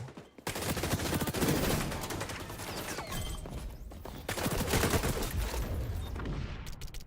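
Rapid bursts of AK rifle fire in the shooter game XDefiant, loud and close, with sustained automatic volleys and brief pauses between strings of shots.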